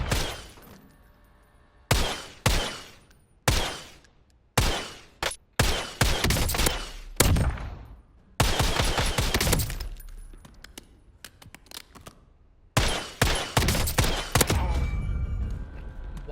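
Rapid bursts of gunfire from the Warzone video game crack out in a series of loud sharp volleys separated by short gaps, each burst decaying quickly, close and dominant with no talking.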